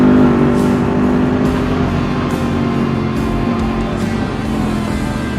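A Yamaha R1 motorcycle engine roars loud and close as it accelerates, a steady buzzing drone with a sustained engine tone and faint shifts in pitch.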